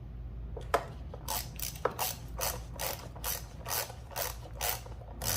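A ratchet tightens the engine cover bolts on a Toyota Corolla, producing about ten evenly spaced, crisp clicking strokes close by, alone without speech.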